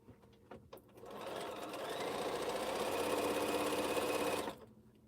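A sewing machine stitching quilt pieces for a T-shirt quilt starts after a few clicks and runs in a steady rapid whir for about three seconds before stopping abruptly.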